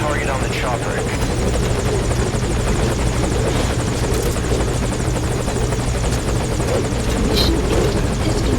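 A helicopter in the video game Metal Gear Solid V Ground Zeroes hovers loud and close with a steady rotor thrum and engine whine. Voices are heard over it.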